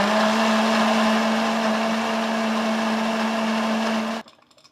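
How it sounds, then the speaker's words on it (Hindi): A blender runs steadily for about four seconds, whirring strawberries with lemon juice, salt, ice cubes and water in a loud, even drone that stops abruptly. "दोबारा से ब्लेंडर चलाएंगे।"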